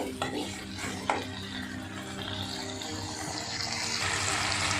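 Okra for a tamarind kulambu is stirred in a cooking pan with a soft continuous sizzle and rustling scrapes, plus a couple of sharper knocks early on. The frying hiss swells gradually toward the end.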